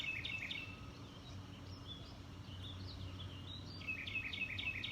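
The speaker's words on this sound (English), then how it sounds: "As the birds end our practice with us, they sound their prayer and their voices with us." Small birds chirp and trill outdoors in nature, with bright repeated calls in short bursts at the start and end over a steady low background hum, fairly distant and soft.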